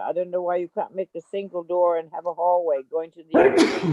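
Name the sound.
a sneeze during a meeting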